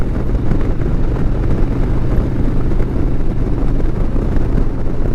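A Harley-Davidson Road Glide touring motorcycle's stock exhaust rumbles steadily at idle, a low, continuous throb heard close up with some wind noise.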